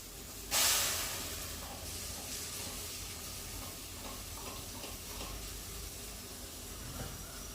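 A ground onion, tomato and garlic paste is poured into a hot pan and bursts into a loud sizzling hiss, then settles into a steady, quieter crackle and bubbling.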